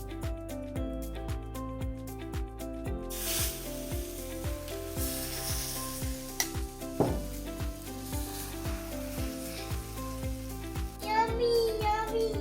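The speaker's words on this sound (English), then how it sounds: "Now let's wait and let the chila cook." Red chila batter frying in ghee on a gas stove gives a steady, soft sizzle throughout, largely masked by louder background music.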